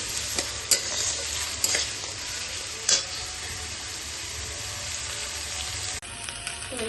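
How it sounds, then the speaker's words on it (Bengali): Chopped cashews fry lightly in a pan with a bright, continuous sizzle, while a few quick spatula clicks and scrapes stand out nearby and no one speaks. "একটু হালকা ভেজে নেব কাজু কুচি দিয়ে"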